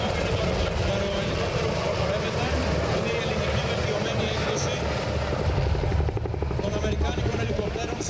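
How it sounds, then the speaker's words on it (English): Military helicopters, including an AB-212 and an S-70B, thunder close overhead at an air show assault demonstration, with a loud, continuous rotor thump and engine whine, while a voice talks underneath. "These helicopters will present an airborne helicopter assault with troop insertion."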